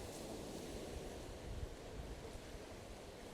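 Sea waves wash onto the shore at Herceg Novi in a steady, dense roar of surf, with wind rushing across the microphone throughout and no voices.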